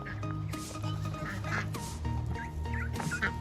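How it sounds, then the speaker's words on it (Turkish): Ducks and geese quacking and honking repeatedly at close range, overlapping calls over a steady outdoor background. "Burada yine kazlar ve ördekler."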